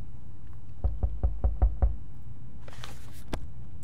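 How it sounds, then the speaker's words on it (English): Six evenly spaced knocks on a door in the video game 60 Seconds, heavy and fairly close, followed by a faint rustle and a single soft thud, with no voices. "Oh, there's a knock."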